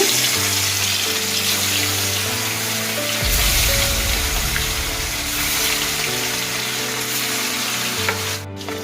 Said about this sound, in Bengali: এবার মাছগুলো কড়াইয়ের মধ্যে দিয়ে দিচ্ছি।